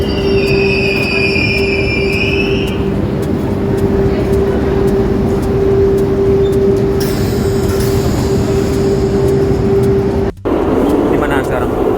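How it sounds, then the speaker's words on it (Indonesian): Steady rumble inside a double-decker train near Paris, with a sustained high wheel squeal, a brief dropout near the end, and some faint voices in the carriage. "Keretanya double decker."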